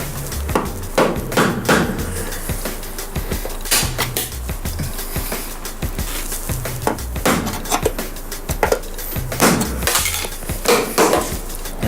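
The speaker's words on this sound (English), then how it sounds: "I'm gonna have to hit that with a hammer or something to break it off." Repeated sharp metal-on-metal hammer blows knock off a rivet that has been cut through during a vehicle bulkhead removal, irregular clanging strikes ringing close and loud with no talking.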